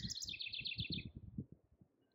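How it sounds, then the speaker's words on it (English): Outdoors under leafy trees and blue sky, a bird gives a quick run of bright repeated chirps over a low rumble of background noise, and then the chirping stops. "And the birds are happy"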